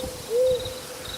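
An owl gives a single soft hoot in a forest at night, close and clear over a faint steady background of chirping insects.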